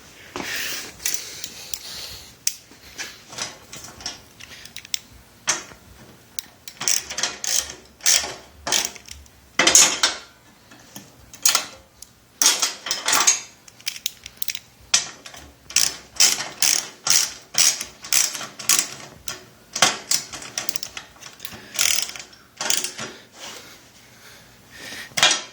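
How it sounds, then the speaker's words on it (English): A ratchet wrench clicks close and loud while working on a racing mower. Bursts of rapid ratcheting strokes repeat with short pauses over nearly half a minute, mostly without talk. "What do I do with my ratchet?"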